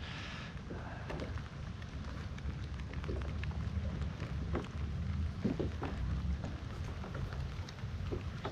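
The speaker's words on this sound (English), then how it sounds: "It's starting to rain on us now too" Rain falling steadily around a kayak on Florida's Indian River Lagoon during a fishing trip, a continuous near hiss with scattered drop taps and some wind rumble, no talking.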